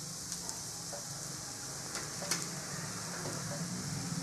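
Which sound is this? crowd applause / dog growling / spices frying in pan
spices frying in pan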